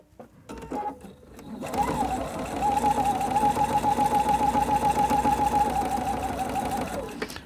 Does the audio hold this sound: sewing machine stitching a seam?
yes